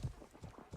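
Horse hooves clip-clopping in the Life is Feudal video game, a quick run of soft, low thuds repeating every fraction of a second with steady rhythm, fairly faint and close.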